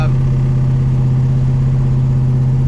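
A Dodge Charger with a new big block V8 idles steadily near 1900 rpm, a loud, deep, continuous low rumble that fills the whole short stretch without any talk over it.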